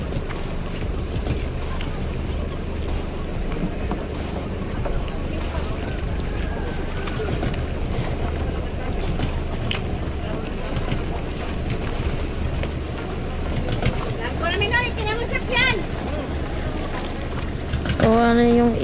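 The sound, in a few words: motorboat ride across to another barangay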